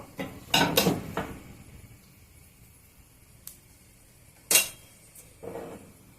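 A metal spoon scooping excess oil out of a frying pan with onions: a few sharp clinks and scrapes against the pan in quick clusters, then sparser taps, close and fairly loud against a quiet background, with no talking.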